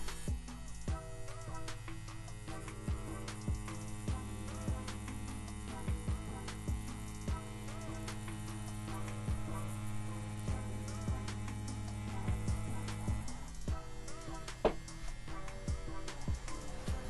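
A CNC P6 rotary tattoo machine running at 8 volts with a liner gives a steady low electric hum throughout, with light clicks and small fluctuations as it works.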